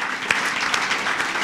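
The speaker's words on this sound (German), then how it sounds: "Gebe dem Herrn einen Applaus." A church congregation applauds during a faith-week worship service, with dense, steady clapping that stays loud throughout a short burst and has no voices over it.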